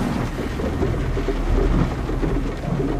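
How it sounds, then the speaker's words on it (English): Heavy rain pours steadily at night with low rumbling thunder rolling underneath, a loud, dense wash of noise throughout with no voices. "heavy rains began."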